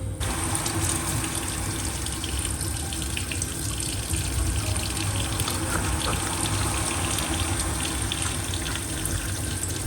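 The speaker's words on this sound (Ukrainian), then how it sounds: "Добре миємо під проточною водою перець" Steady running tap water splashes continuously into a sink while mini peppers are washed, a full, constant gush with faint handling sounds mixed in.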